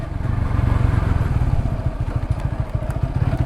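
Motorcycle riding through city streets in the Shyambazar area of Kolkata, a close, loud engine with a fast, steady pulsing thump throughout.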